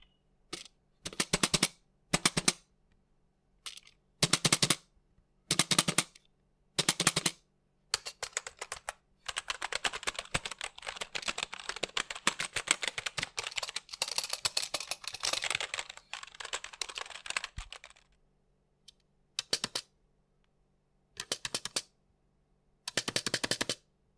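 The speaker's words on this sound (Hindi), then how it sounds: "दोनों ही कीबोर्ड्स के जो की प्रेस का साउंड है वो थोड़ा डिफरेंट आपको देखने को मिलता है" Rapid clacking keystrokes from a budget gaming keyboard, coming in short separate bursts, then a long stretch of fast continuous typing, followed by more brief bursts.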